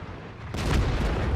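A big HE shell slamming into a tank in World of Tanks, a sudden heavy boom halfway through that swells into a dense rumbling roar over steady engine noise.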